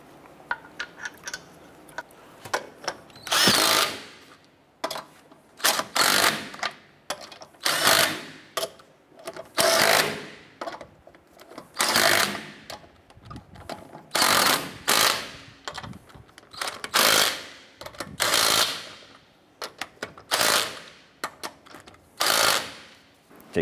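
A power tool rattles in short, repeated bursts while snugging down wheel lug nuts on a 2008-2012 Honda Accord, with sharp mechanical hammering separated by brief pauses, close up and without speech.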